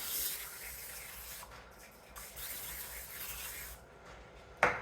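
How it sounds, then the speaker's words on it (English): Aerosol cooking spray misted onto a 9 by 13 baking pan for a holiday dessert, heard as a steady close hiss and rub across several seconds, ending in a sharp click. "We're going to spray it."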